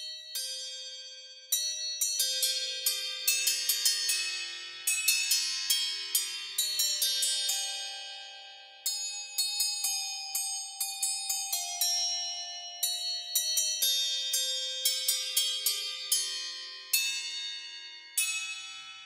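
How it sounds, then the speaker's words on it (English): Dinner bell sample from a bell sample library: bright, dense clusters of ringing metallic strikes that decay and repeat in swells, clear and alone with no talk. "here is Dinner Bell"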